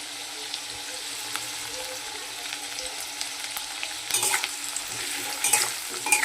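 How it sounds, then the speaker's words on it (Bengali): Chopped onions frying in a pan after potatoes, a steady crackling sizzle that grows busier toward the end as a spoon stirs and scrapes, with no voices present. "আলুটা আমার ভাজা হয়ে গেছে এবার আমি পেঁয়াজ কুচিগুলো দিয়ে দিচ্ছি"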